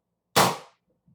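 A homemade .357 caliber PCP air gun with a brass valve fires a single pellet, giving one loud, sharp report that decays over about half a second and then falls into silence.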